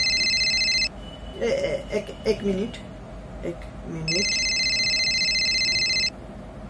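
A telephone ringing indoors in repeated electronic bursts, a ring cycle before and after a stretch where someone speaks briefly, the tone loud and steady, then stopping.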